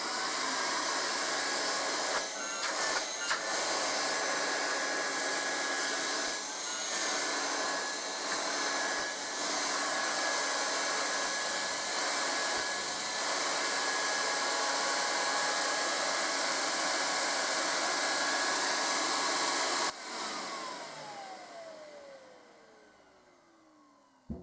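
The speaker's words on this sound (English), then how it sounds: "Next up is my Sid Harvey Furnace Vacuum." A Sid Harvey furnace vacuum cleaner runs with a loud, steady whining roar and a high motor tone, holding level for a long stretch before switching off and winding down.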